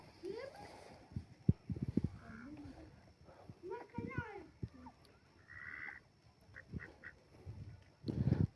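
Domestic Indian ducks quack in short, scattered bursts close by while a person talks over them.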